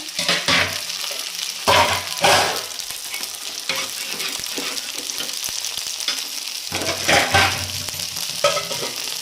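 Okra fries in a pan for a dal side dish, sizzling steadily and loudly up close, with bursts of stirring scrapes throughout.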